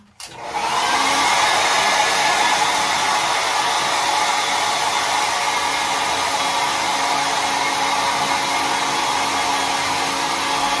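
A hair dryer blows a steady, loud stream of air at damp curly hair after a brief start, holding a constant whooshing roar with no talking over it.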